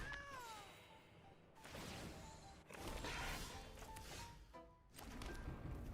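Cat meows from a card played in a digital card game, several short synthetic mewls mixed with game effect sounds, crashes and whooshes across a busy stretch of interface audio.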